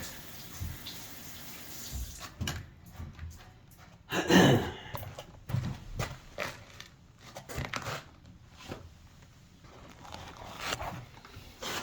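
Running tap water splashes as hands are washed after removing a toilet, with intermittent rushing and splashing bursts of moderate loudness and short pauses between them.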